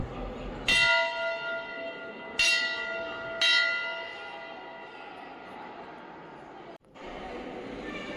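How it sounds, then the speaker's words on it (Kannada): A temple bell at Brahma Datta Dham in Hooghly is struck three times in quick succession, each ring loud and bright with a long, shimmering metallic decay over a quiet background. "ಬನ್ನಿ ನಾವು ಕೂಡ ಗಂಟೆ ಬಾರಿಸಿ ದರ್ಶನ ಸ್ಟಾರ್ಟ್ ಮಾಡೋಣ"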